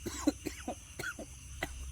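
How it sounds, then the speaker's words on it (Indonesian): A few short, close coughs and throat-clearing sounds come in quick succession, fairly quiet with brief pauses between them. "batuk."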